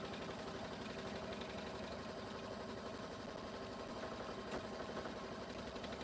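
An embroidery machine stitches the underside pocket of a quilting project, giving a steady, continuous mechanical whir with a rapid needle rhythm that stays close and even throughout, with no talking.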